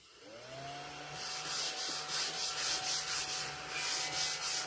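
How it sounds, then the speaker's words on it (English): A vacuum cleaner picks up loose flock: a steady whining motor tone starts, then a rough sucking rasp pulses rhythmically as the nozzle is pushed back and forth over the surface, fairly close and alone. "And I'm going to use my vacuum."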